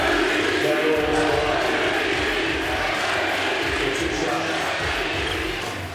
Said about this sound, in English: Crowd cheering him on